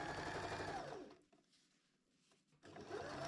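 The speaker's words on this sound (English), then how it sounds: "Then do just locking on the ends and sew just a straight line across" A sewing machine runs a straight line of stitching across hammock fabric: a fast, close mechanical whir that stops for about a second and a half, then starts again.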